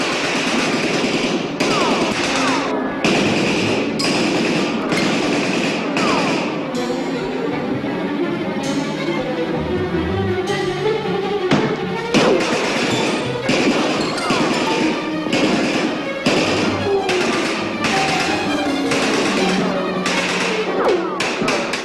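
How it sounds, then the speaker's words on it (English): Gunfire from a 1970s sci-fi TV episode comes in repeated sharp rapid bursts and cracks, loud and close, mixed with crashing effects and background sound throughout. "There's a brief exchange of gunfire before Smith and company are forced to withdraw."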